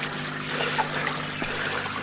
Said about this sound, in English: this is what the waterfall looks like at the moment.